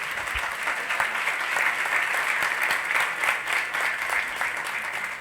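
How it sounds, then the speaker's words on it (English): A room full of people gives a warm round of applause at a Women in the World event, sustained even clapping at steady loudness with no voices over it. "Let's give her another round of applause, please."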